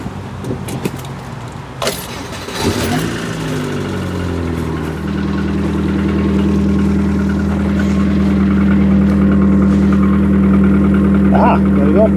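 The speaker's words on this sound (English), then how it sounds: "I shall do that by starting the engine and lying down on this carpet and having a good listen." A car engine idles steadily with an exhaust leak at a pipe joint, a low droning hum that settles and grows slightly louder after a few seconds of handling noises and clunks, heard close up from underneath on a carpet.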